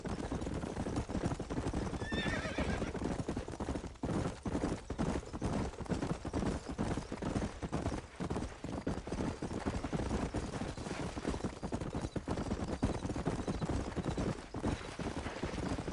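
Horses in Red Dead Redemption trot with a steady rhythmic clip-clop of hooves, and a whinny rises briefly early on, all close and fairly loud.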